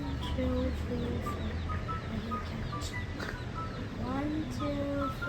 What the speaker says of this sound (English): How many chickens are there?